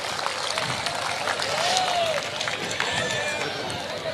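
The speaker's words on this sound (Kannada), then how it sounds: "ಒಂದ್ಸಲ ಜೋರಾದ ಚಪ್ಪಾಳೆ ಇರಲಿ." A crowd claps in a dense, sustained patter, loud and continuous, with a voice talking over the applause.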